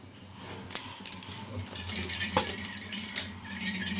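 Fish coated in masala being stirred in a pan, quick metallic scrapes and clinks of a spatula against the pan rising over a low background, close, with a voice talking at times.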